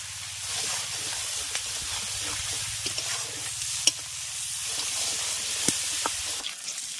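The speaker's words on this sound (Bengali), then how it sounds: "এবার মাছের তেলটাকে প্রথমে পেঁয়াজের সঙ্গে আগে ভেজে নেব।" Fish oil frying with onions in a pan, a steady close sizzle and hiss with scraping stir strokes and a few sharp clinks of a utensil against the pan, no talk.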